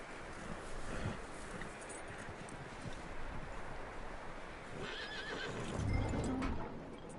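A horse in the Red Dead Redemption 2 video game whinnies amid clip-clopping hooves, over a steady windy outdoor ambience; the neigh rises near the end while hoofbeats scatter throughout, no talk.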